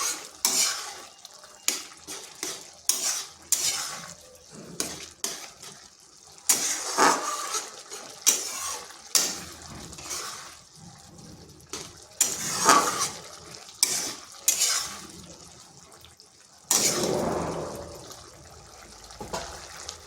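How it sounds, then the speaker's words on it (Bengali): Fried spice mix being stirred into a curry in a pot with a couple of green chilies: irregular bursts of spoon scraping and clinking against the pot, close and fairly loud, with short pauses between strokes and no talking. "ভাজা মশলাটা খুব ভালোভাবে মিশিয়ে নিচ্ছি।"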